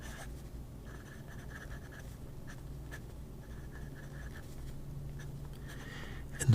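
A Majohn N15 dip nib pen scratching across paper, a soft, continuous scritching with short strokes and pauses, close and quiet against a low steady background hum.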